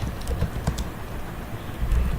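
Someone typing a command on a computer keyboard, with irregular soft clicks of keystrokes close by and no voice.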